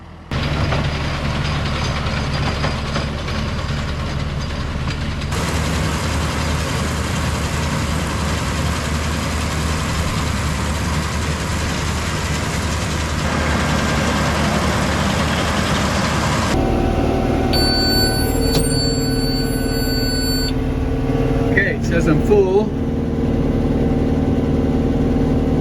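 Hay balers work a field during a near-record hay harvest, run a gear slower than usual, producing a loud, continuous low mechanical drone. The engine tone shifts partway through, and short clanks and a whine sound near the end.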